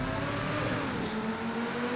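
A video-game car engine in GTA 5 holds a steady, droning pitch during a mega-ramp race, with no talk over it.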